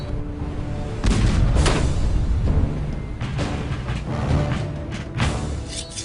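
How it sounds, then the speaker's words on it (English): Cannon fire from ships in a harbor during a Revolutionary War battle: several loud, deep booms land a second or two apart, each trailing off under a continuous rumbling background. "ships in the harbor try to pin down the militia with cannon fire."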